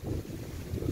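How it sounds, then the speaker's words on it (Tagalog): Strong outdoor wind buffeting the microphone, a low, rumbling roar that rises and falls for about a second. "Lakas ng angin dito sa amin."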